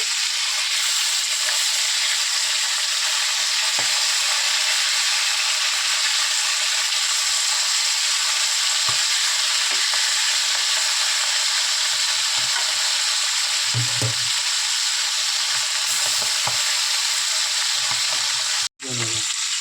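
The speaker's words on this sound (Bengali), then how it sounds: "এইভাবে সব মাছগুলো ভেজে নেবো" Tengra fish fry in hot oil, a loud, dense and continuous sizzle that stays steady with occasional soft knocks and stirring sounds from the pan, close and without talk.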